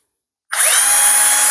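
A cordless drill, a three-mode model that can drive screws, hammer-drill and bore concrete, spins up after a brief silence and then runs at steady high speed with a whining motor tone, close and loud.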